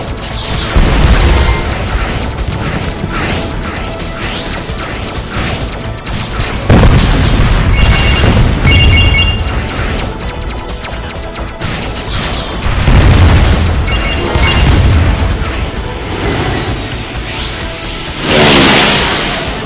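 Burning missile explosions in the game Winwings, a loud stream of booms, whooshes and crashing bursts recurring every few seconds over a busy game soundtrack.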